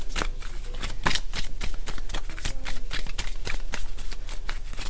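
Cards from a feather-themed oracle deck being shuffled in steady, rapid riffling bursts, close and fairly loud, with no voices.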